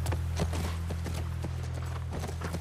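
Steady clip-clop of horse hooves at a walking pace near a ranch in the video game The Last of Us Part I, over a constant low hum, moderately close and even in rhythm.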